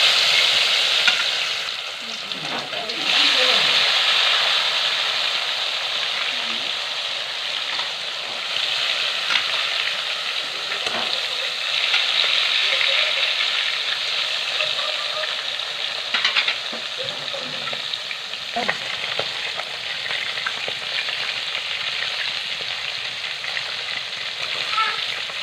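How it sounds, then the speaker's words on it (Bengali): Fish pieces fry in hot oil in a heated kadai for a pumpkin fish curry, a loud, continuous sizzle with bursts of spattering and some stirring, and a voice now and then. "তেলটা গরম হয়েছে, আবার মাছগুলো ভেজে নেবো।"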